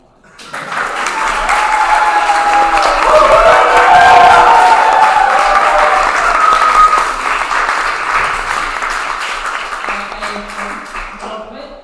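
An audience at the close of a Queen's University rector debate breaks into loud, sustained applause with some cheering, swelling quickly, holding for several seconds, then tapering off as a voice returns near the end.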